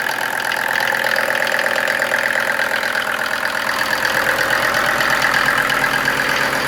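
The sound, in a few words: diesel engine driving water pump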